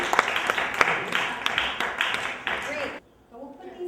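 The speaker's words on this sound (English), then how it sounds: "Give her a round of applause." Brief round of applause for a student on a NASA field trip, a small group clapping fairly close for about three seconds before it stops abruptly, with voices mixed in.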